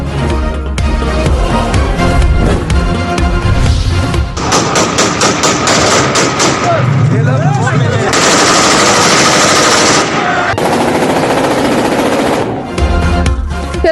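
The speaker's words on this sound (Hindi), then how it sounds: "कराची के इलाके लियारी कलाकोट थाने की हुदूद में हवाई फायरिंग की वीडियो सोशल मीडिया पर वायरल" Aerial gunfire in Lyari, Karachi: loud rapid bursts of automatic fire crackle repeatedly outdoors, with sustained volleys and brief gaps between them.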